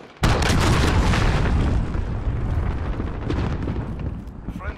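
A cruise missile explosion in Call of Duty Modern Warfare hits with a sudden loud boom, then rolls on as a long rumbling blast and debris roar that slowly fades.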